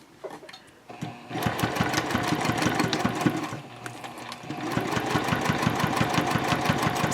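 A sewing machine runs at 3.0 stitch length while sewing a triangle pouch, with a fast, even needle clatter that is loud and close. It pauses briefly midway, then carries on steadily.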